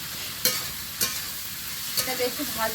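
Mixed vegetables fry in a pan while a spoon stirs them, giving a continuous sizzle with sharp scraping strokes about every half second, loud and close, with no talking.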